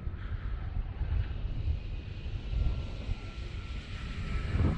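A FlightWorks Stearman P-17 RC model biplane in Red Bull colors, running on a 4S 3300 battery, drones steadily overhead. The motor hum rises and falls in loudness over nearly five seconds, with some wind rumble on the microphone.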